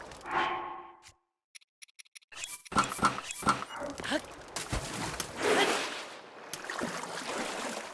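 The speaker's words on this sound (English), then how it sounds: "Oh, I gotta swim again, don't I?" Link swims through water in Zelda: Breath of the Wild, with sloshing, splashing strokes that rise and fall after a short opening of game chimes and a brief silence.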